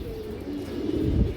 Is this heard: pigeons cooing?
yes